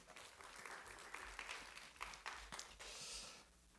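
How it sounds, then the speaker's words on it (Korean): A church congregation at a Sunday service gives a round of applause, fairly faint, scattered clapping with a few sharper claps, fading out near the end. "우리 격려와 축복의 박수 한번 해주시면 좋겠습니다"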